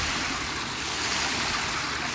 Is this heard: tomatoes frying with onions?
no